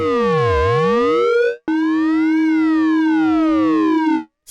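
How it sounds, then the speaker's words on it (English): A Moog Matriarch FM synth patch with a metallic, ring-modulator-like tone, two loud sustained notes with sweeping, chirping inharmonic overtones, each cutting off sharply into brief silence. "Sounds kind of like a ring modulator now"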